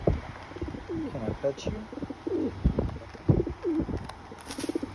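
A pet bird coos softly in short repeated phrases close by, while a person keeps talking to it gently over the cooing.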